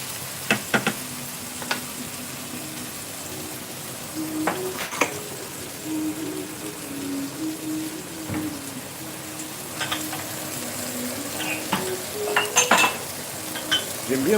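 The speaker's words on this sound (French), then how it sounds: "J'aime bien voir ça crépiter" Chicken with sesame oil sizzles and crackles steadily in a hot wok, with occasional clinks of a utensil stirring against the metal, close up and continuous.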